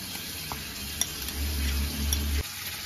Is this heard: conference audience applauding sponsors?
no